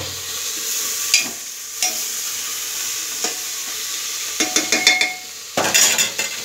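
Tomatoes being stirred into vegetable rice in a frying pan, a steady sizzle under scattered scrapes and clinks of a spoon against the pan, with a burst of busier stirring near the end; no talking.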